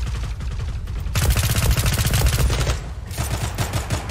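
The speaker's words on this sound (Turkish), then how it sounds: "Buradan yine çatışma sesleri." Rapid bursts of automatic gunfire in a gunfight in the shooter Zula, loud and close, with a short pause before the firing resumes.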